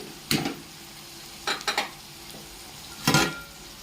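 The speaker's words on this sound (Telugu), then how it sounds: "ఆనియన్స్ ఆయిల్లో వేగేటప్పుడే కొంచెము సాల్ట్ వేసుకున్నాం కాస్త త్వరగా వేగుతాయి కాబట్టి కలిపేసి" Sliced onions and okra fry in oil in a pan while a spoon stirs them in three short scraping bursts, each with a soft sizzle and clink, close by and heard alone.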